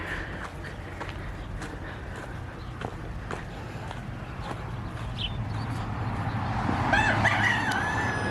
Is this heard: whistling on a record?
no